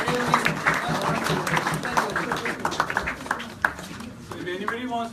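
An audience at a Hong Kong gathering in support of Jallikattu claps for the ladies, scattered hand claps mixed with crowd chatter and voices talking over them.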